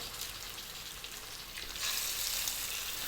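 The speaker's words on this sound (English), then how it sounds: "We're on a medium heat and we're going to fry these for about" Pieces of rohu fish frying in a pan over medium heat, a steady close hiss of sizzling oil that grows a little brighter and louder partway through.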